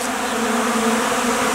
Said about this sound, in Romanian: ce bine zboară albinele, colectează foarte bine această hrană